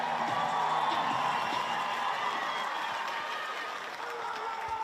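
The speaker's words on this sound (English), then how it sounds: "Let's give them a cheer." A stadium crowd at a women's rugby test match between Wales and Australia cheers and applauds in a steady, sustained roar that fills the whole stretch, with no clear talk above it.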